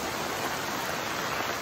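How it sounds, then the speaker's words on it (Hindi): Steady, dense hiss of rain falling on a hill trail near Tiffin Top, Nainital, continuous and even throughout with no breaks or voices. "बारिश भी स्टार्ट हो गई, आप आवाज सुन सकते हो"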